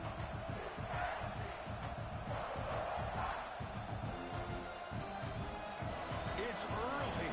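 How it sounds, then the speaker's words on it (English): A large college football stadium crowd in a video game roars continuously with dense rumbling noise, thuds and shouts blending into a constant wall of sound. "this crowd is fired up. Listen to this noise here."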